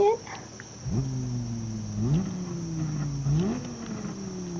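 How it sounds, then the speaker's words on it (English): A race car's exhaust roars in the driving game Gran Turismo 7, rising in pitch through each gear before stepping down at shifts, three pulls in a row under a steady high electronic tone. "Those exhaust pipes are roaring."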